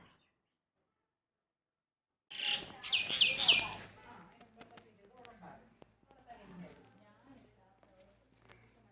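Baby birds in a nest in a Kerala home garden chirp in a quick burst of high, bright calls, followed by softer scattered chirps and small rustles close by.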